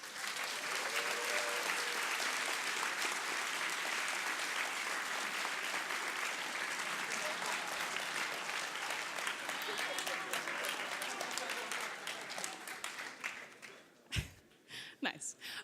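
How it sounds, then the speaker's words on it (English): A conference audience breaks into loud, sustained applause that gradually thins out and fades, ending in a few scattered claps and brief voices. "Please give me a round of applause."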